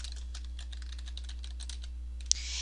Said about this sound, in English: and then just begin typing